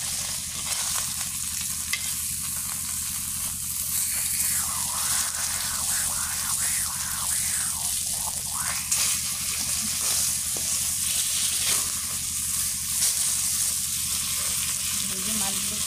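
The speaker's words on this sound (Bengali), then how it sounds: "এই যে মাছগুলো ভাজা হয়ে গেছে" Fish frying in hot oil, a steady broadband sizzle with occasional stirring and spatter, close and continuous throughout without talk.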